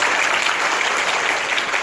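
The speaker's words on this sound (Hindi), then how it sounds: "जोरदार ताली बजाओ।" Loud, dense applause from students at a school camp held at Saraswati Vidya Mandir school, Paonta Sahib, a continuous roar of clapping that holds steady before stopping abruptly.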